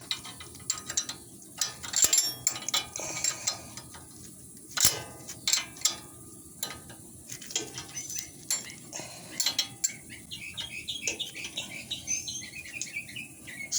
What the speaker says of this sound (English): use a wrench, just hold it in place